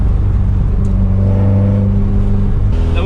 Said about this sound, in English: The revs are still low at this moment, so you can hear it's not all that loud